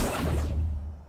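A summoning-spell whoosh from the game Hogwarts Legacy: one broad airy swish that rises briefly and fades out within about a second, with no talk.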